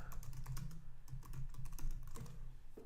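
Quick bursts of keystrokes on a computer keyboard, close and clear, with short pauses between taps.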